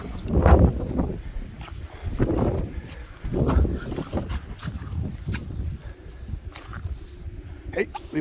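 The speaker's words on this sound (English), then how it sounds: "Oh, what's that wind? Hear that? That's the wind." Wind gusts outdoors on a windy day buffet the microphone in deep, rumbling bursts that rise and fall every second or two, with a lighter rushing sound between them.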